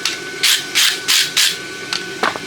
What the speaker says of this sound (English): So start by brushing slag off